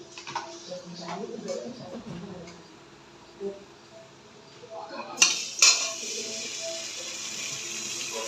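Batter poured into a kadhai that has just been used for frying pakoras, with its leftover oil drained. Utensils clink and scrape first, then a sudden hiss breaks out and keeps going steadily. Voices are heard faintly now and then.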